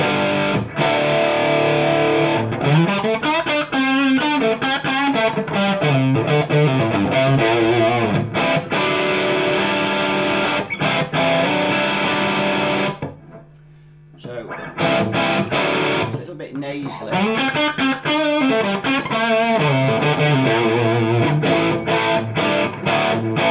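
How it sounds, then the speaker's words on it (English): A Vox 125 100-watt guitar amp head in distortion mode carries loud, sustained distorted guitar playing, with one short near-silent pause midway before the playing resumes at full level. "we've got this in distortion mode"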